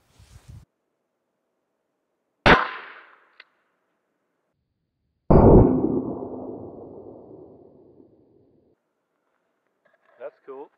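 Two loud shots from a cheap alloy-receiver copy of a Remington 870 shotgun firing slugs at aluminum plates outdoors, the second with a long booming decay, with a brief metallic clank between and faint clicks near the end.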